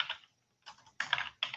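Fast bursts of typing on a computer keyboard, close and clear, with short pauses between rapid clusters of keystrokes.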